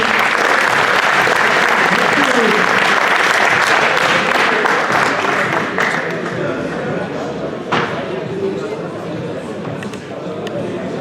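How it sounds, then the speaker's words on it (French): Sustained crowd applause fills a French graduation ceremony hall as diplomas are handed out, dense and steady throughout, easing slightly toward the end with a few thuds and a voice over it. "sous vos applaudissements s'il vous plaît"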